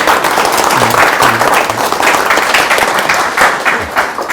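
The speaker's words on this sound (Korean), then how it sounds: "먼저 한홍 교수님 인사를 해주고 큰 박수로 환영해 주십시오." An audience applauds to welcome a history professor at a public lecture, giving dense, loud, continuous clapping from many hands throughout, with a few voices faintly mixed in.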